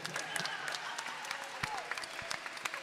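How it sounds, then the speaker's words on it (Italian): Applause from an audience at a Christmas event, scattered individual claps standing out over a light crowd murmur, fairly faint and distant. "un applauso a tutti quanti"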